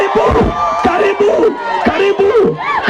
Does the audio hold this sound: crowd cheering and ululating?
yes